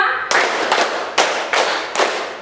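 Five sharp group claps from students in a classroom, spaced about every half second in an even rhythm, loud and close with no talking.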